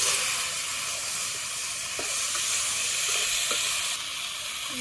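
Pointed gourd frying in a pan with cumin and ginger paste over a clay village stove, a steady close hiss of sizzling oil with a few faint stirring clicks throughout.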